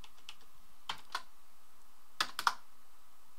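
A comment is typed on a computer keyboard: a few sparse, crisp key clicks, two near the start and a quick cluster of three later, close and clear over a quiet background hum.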